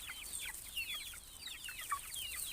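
Several chickens clucking and chirping close by while feeding, a busy overlapping chatter of short calls at quiet level with no voices.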